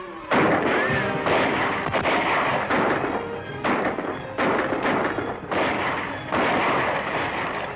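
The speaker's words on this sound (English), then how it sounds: "Just keep firing." Rapid bursts of gunfire crack back and forth in a 1941 western shootout, loud repeated shots in clustered volleys with short gaps between, no voices.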